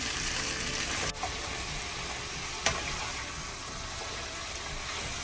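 Chopped vegetables fry in a pan with a loud, continuous hiss and crackle, broken by a couple of brief scraping knocks from stirring.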